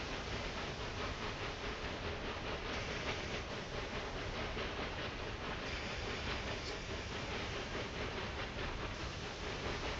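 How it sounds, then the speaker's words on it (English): A steady, dense rumble of a train climbing slopes in the Railway Empire 2 video game, continuous wheel and engine noise filling the whole stretch with no talking over it. "Train is having problems getting up those slopes."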